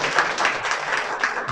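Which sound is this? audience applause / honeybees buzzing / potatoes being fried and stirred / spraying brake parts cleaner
audience applause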